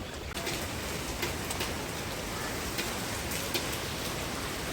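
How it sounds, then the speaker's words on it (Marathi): Steady rain falls on a residential lane in Khotachi Wadi, Girgaon, Mumbai, a dense even hiss close by and heard from a sheltered porch, with no talking and a few faint brief bird calls. "पाऊस पडायला लागला होता सो मी एका घरामध्ये पडवीमध्ये थांबलो होतो"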